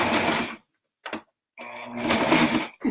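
A sewing machine stitches a quarter-inch seam on a slouchy toy sack, running in three loud close bursts separated by short pauses, with no talk.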